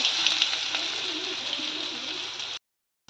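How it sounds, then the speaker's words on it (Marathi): Ground masala paste fries in hot oil with cumin for a Khandeshi black urad dal amti, giving a steady, close sizzle and crackle that cuts off abruptly near the end. "हे वाटण छान फ्राय करून घ्यायचं आहे"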